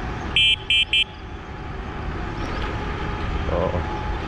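Three quick bicycle horn toots sound in rapid succession on a cycling trail in Al Jada, Sharjah, followed by steady engine and road noise.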